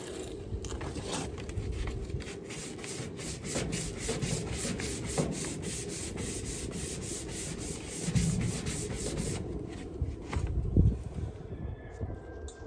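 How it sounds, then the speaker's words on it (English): Auto body panel on a 1986 GMC being sanded with a long sanding block, a steady rapid scratching rub in repeated back-and-forth strokes, close and fairly quiet, with a few knocks near the end and no talk. "sand it down with a good long block"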